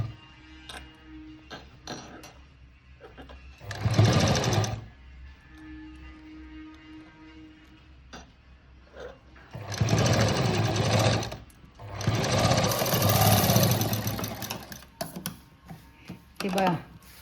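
A sewing machine stitches saree-border patchwork in loud, close bursts of rapid mechanical chatter, with quieter pauses and handling noise between runs.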